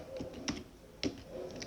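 Keys tapped on a computer keyboard while typing a web address, a few light clicks in a short sparse burst with two sharper strikes, close and alone with no talk.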